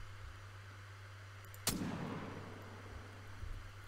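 A single sharp rifle gunshot in theHunter hunting game, set in mountain goat country at Silver Ridge Peaks, cracks out mid-clip over a steady low hum, then rolls into a long, fading echo.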